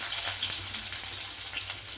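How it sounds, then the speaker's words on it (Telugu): Mustard seeds, fenugreek, cumin and onions frying in hot oil for egg curry, a steady dense sizzle with crackling pops, close and continuous with no talk. "కొంచెం ఆనియన్స్ వేగాలండి"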